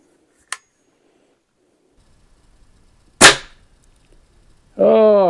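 Stoeger S3000 air rifle firing: two sharp, isolated cracks a few seconds apart, close and fairly loud, with quiet gaps between them and a short burst of talk at the end.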